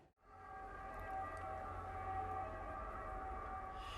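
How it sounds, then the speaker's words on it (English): Ambulance sirens wail as steady, sustained tones from some distance, with a low background rumble and no voices. "that was the sound of the sirens from those ambulances that I hear every single morning when I wake up"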